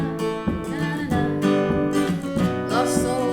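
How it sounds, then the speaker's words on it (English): Strummed acoustic guitar chords following a down, down, miss, up pattern, accompanying a song, with steady rhythmic strokes ringing loud and close, no voices. "If you feel really comfortable with the chords, you can put in a bit more strumming."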